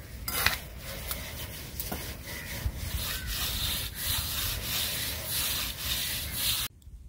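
Someone smooths the surface of a hand-built well by hand, a close, steady scraping and rubbing in repeated strokes that runs continuously for several seconds before stopping abruptly.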